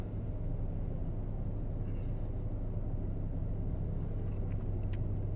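A Toyota Corolla engine held at high RPM gives a steady, continuous rumbling drone at constant loudness, with no talk over it.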